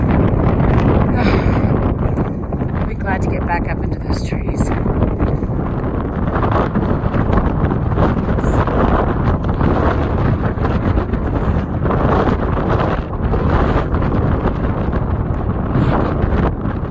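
Strong wind gusting around 25 to 30 miles per hour in New Mexico roars steadily into the microphone for the whole stretch, with a voice speaking faintly underneath.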